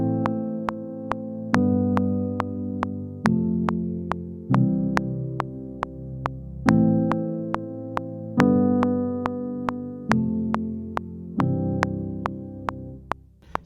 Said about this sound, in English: perhaps holding just the chords but no in-between notes